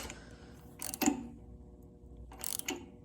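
Ratchet wrench tightening spark plugs on a Panhead chopper, two short bursts of quick metallic clicking separated by a pause, close and fairly quiet.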